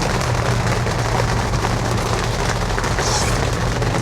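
Steady, dense rainfall drumming on a 1967 Barracuda convertible with its top down, continuous and fairly loud, with a low rumble underneath.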